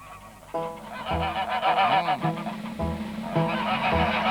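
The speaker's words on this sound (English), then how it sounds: "A gaggle of geese." A gaggle of geese honks repeatedly, loud close nasal calls in quick irregular bursts with brief gaps between them.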